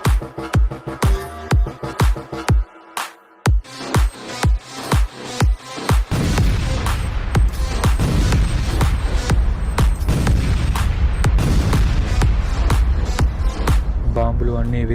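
Bomb explosions in a short Independence Day film about freedom fighters: a run of sharp, loud, rapid booming hits, followed by a dense, sustained roar of blasts and rumble that fills the rest.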